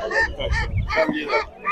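Ducks at the Sabunçu poultry market give loud, close, repeated nasal quacks and honks in quick succession, several calls overlapping within a couple of seconds.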